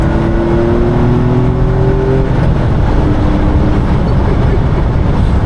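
A Jaguar XJ220 twin-turbo engine revs hard inside the car, a loud, dense roar climbing in pitch, with a brief shift dip partway through before pulling steadily again.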